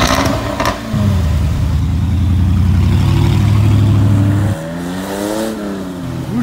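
A Jaguar F-Type SVR sports car engine revs loudly and close by, climbing in pitch and holding a strained snarl, then dropping off into a lower rumble and a second rising rev.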